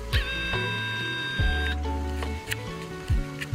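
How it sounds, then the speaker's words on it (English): A small motor whirs and whines in shifting pitches with brief clicks, close and quiet: the lens zoom motor of a Sony ZV-1 II compact camera zooming in steps. "I do hate that you can hear the zoom"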